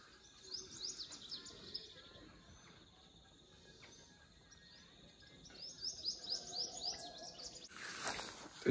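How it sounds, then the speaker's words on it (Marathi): Small birds chirp and tweet outside a homestay in the Konkan countryside, with repeated bright calls in bursts, moderately near over a soft outdoor hush and faint insect hum, growing busier toward the end. "छोटे छोटे छान छान पक्षी येतात इकडे."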